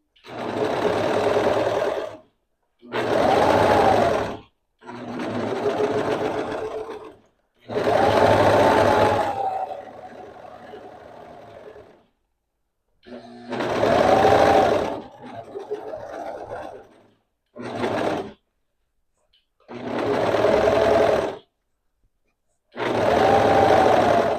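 An overlocker sewing machine with its knife engaged stitches and trims a dress fabric edge in loud, close bursts of fast mechanical whirring, stopping and starting repeatedly with quieter pauses between runs.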